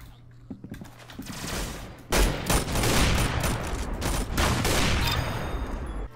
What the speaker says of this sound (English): it is another insta-kill rifle that has been in the game for a very long time